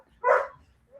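A dog gives a single short bark indoors in a home after the doorbell rang, moderately loud and close, followed by a faint whine at the end.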